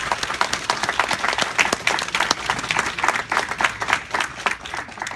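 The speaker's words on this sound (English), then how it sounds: "Please give him a round of applause." An audience applauds at a public health award ceremony, loud, close clapping from a crowd that swells and dips slightly while staying strong throughout.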